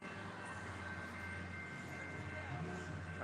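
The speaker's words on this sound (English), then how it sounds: "Got the CP train going by here." A CP freight train rolls past, a steady distant rumble and rail noise that holds evenly throughout, fairly faint.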